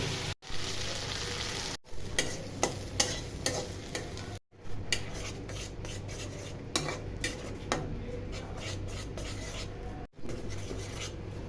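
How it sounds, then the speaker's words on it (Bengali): Prawns frying lightly in a pan for a potato and prawn curry, with a steady sizzle under repeated scraping and clinks of a utensil stirring against the pan, close and continuous. "চিংড়ি মাছগুলো হালকা করে ভেজে নেব।"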